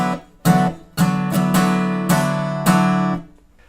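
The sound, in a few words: acoustic guitar strumming pattern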